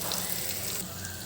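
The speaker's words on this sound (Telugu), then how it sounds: "దీంట్లో కొద్ది వాటర్ అయితే యాడ్ చేసుకుంటున్నాను నేను." Water is poured into a pan of fish curry as it cooks, a brief steady splashing rush heard close up, with no voices.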